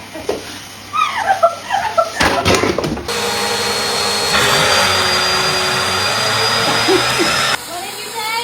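A vacuum cleaner switches on partway through with a loud, steady whining roar that runs for several seconds, preceded by people talking and shuffling nearby, then cuts off near the end.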